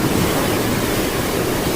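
Rushing water of a mountain river (khola) in Baglung, Nepal, a loud, steady broadband roar that fills the whole stretch with no pauses and no voices.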